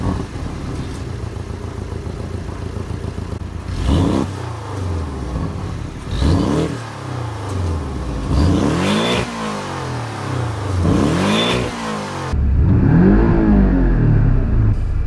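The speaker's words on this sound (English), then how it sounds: "let's get an exhaust clip of that 4-flat turbocharged engine." Porsche 718 Cayman GTS with a 2.5-litre turbocharged flat-four sends its exhaust through several loud, close revs, each rising and falling in pitch over a steady idle, with no talking.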